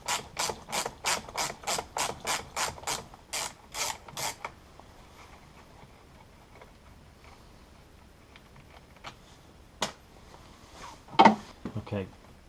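Ratchet wrench with a 10 mm socket clicking rapidly in a steady burst of about a dozen sharp clicks while loosening fuse box bolts in a Volvo V70 engine bay, followed by quieter handling noises and a few louder knocks.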